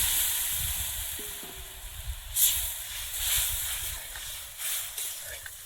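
Boiled chana dal tipped into a hot pan of spiced oil brings up a hissing sizzle that swells in waves over a few seconds, heard close with no one talking.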